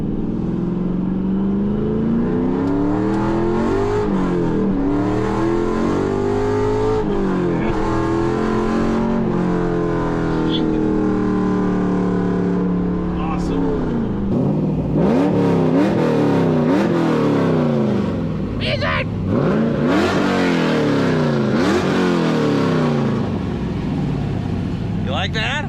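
Pontiac WS6 Trans-Am accelerating hard on the highway, its engine roaring loud and close with rising and falling revs through several pulls across a long stretch, and cabin noise underneath.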